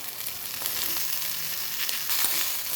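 Chopped carrot and green chillies sauté in hot oil for a carrot chutney, giving a steady, close sizzle and frying hiss throughout with no talking.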